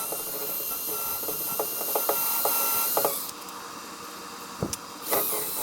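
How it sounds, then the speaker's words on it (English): A drill bit grinds into wood and knocks against a screw while boring through a wooden boat's guide strake, giving steady rasping drilling with a few sharp clicks and taps, close and moderately loud. "you may actually be able to hear me hitting the bit, hitting that screw with the bit."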